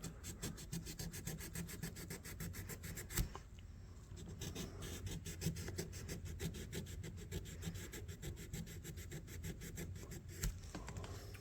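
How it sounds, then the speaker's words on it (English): Sandpaper rubs rust off a vintage knife in quiet, continuous back-and-forth scraping strokes, close up. The gritty rasp keeps an even rhythm throughout, with only a brief softer moment partway through. "I might be able to get a little sandpaper on there"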